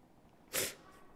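A man on a golf outing voices an "achoo" in imitation of a sneeze, one short, sharp burst standing alone against quiet background.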